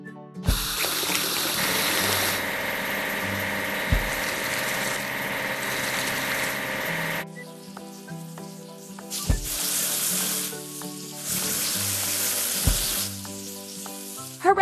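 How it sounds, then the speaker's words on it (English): A track laying machine is hosed down in a kids' building and train video game, a steady hissing water spray that runs continuously over light background music, with a few soft thumps. "We need to wash the track laying machine."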